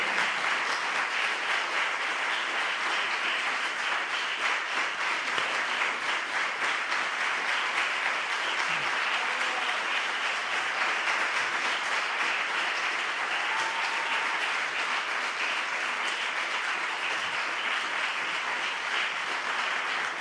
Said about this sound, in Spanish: Este aplauso es para él